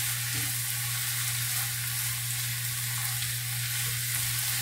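Zucchini and mixed vegetables frying in a pan for oriental pasta, a steady loud sizzle running the whole time over a constant low hum, with no talking.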